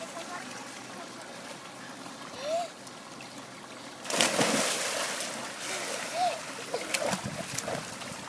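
A person dives into outdoor water during a summer outing, with a sudden broad splash and churning water following a quieter stretch, while children and adults call out nearby.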